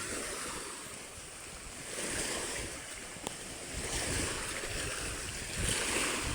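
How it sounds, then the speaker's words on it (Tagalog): Moderate ocean waves break on the shore in a steady wash of surf with rising and falling swells, mixed with wind rumble on the microphone and no talking. "Tama-tama lang ang hampas ng alon"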